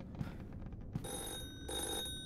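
An old-style telephone bell rings in a horror video game, two short ringing bursts with a gap between them, quiet and a bit distant over low background rumble.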